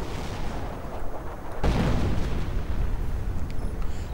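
Artillery shelling a mortar position in a WWII strategy game, a broad rumbling burst landing sharply partway through, then sustained heavy roar of fire with no voices.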